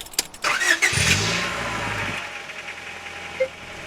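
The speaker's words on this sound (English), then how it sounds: "I even like the sound of the starting motor when you first start it up." A Honda Prelude's starter motor whirs briefly before the engine catches and settles into a steady idle, heard close up with no talking.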